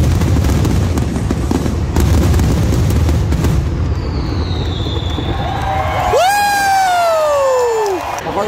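Fireworks pop and whistle over a roaring, cheering ballpark crowd after a walk-off grand slam, loud and close, with rising and falling whistles near the end.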